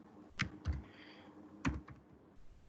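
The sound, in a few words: typing Python code on a computer keyboard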